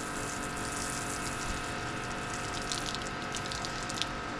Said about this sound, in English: Give that a bit of a squirt over